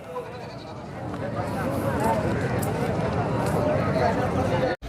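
Goats bleat at a busy Pakistani goat market in the morning, overlapping calls rising over crowd murmur and talk, with a brief dropout near the end.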